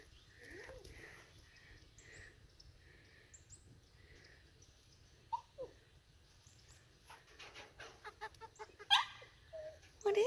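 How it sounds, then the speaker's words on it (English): Three newly acquired chickens cluck softly in their coop, scattered low murmurs that build toward a few louder calls near the end, with close sniffing and shuffling noises and no talk. "What is that, guys? That's chickens."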